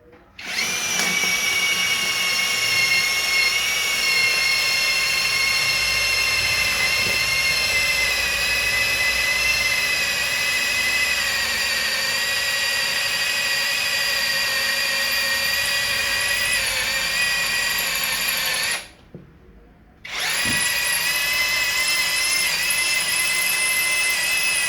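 A Fuyaon cordless power drill whines loudly and steadily at high speed, with a brief cutoff near the end before it starts running again.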